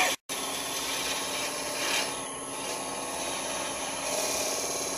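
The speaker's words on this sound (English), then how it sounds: "my tool's getting dull. It's going to need to be sharpened" Woodturning tool cutting a honey dipper on a spinning lathe, a steady scraping hiss with a slightly dull edge, close and continuous after a momentary dropout near the start.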